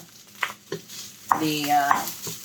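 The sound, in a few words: tricolor quinoa added to a hot pan and stirred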